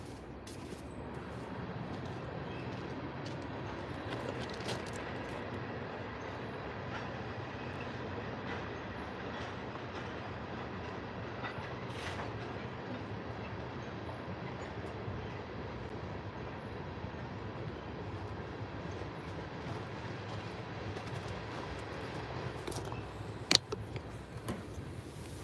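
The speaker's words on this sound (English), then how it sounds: "That train just blew the brakes." A freight train rolls past at a distance, a steady low rumble with occasional faint clanks and a sharp brief sound near the end as its brakes blow.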